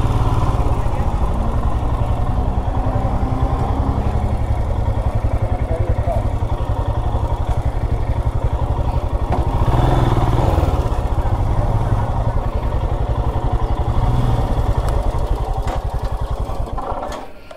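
Motorcycle engines idle and rumble steadily in a bike parking area near Pykara waterfalls on a ride around Ooty, a loud continuous clattering drone throughout.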